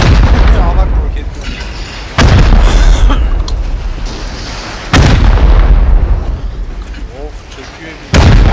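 Heavy rocket blasts in a first-person shooter, three loud booming explosions spaced a few seconds apart, each followed by a long rumbling decay, with excited players talking over the action.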